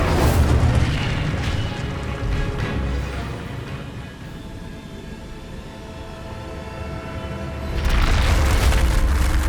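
Incendio fire spell blast in Hogwarts Legacy, a loud, sustained roaring rumble that eases off through the middle and then surges again near the end, with no talking.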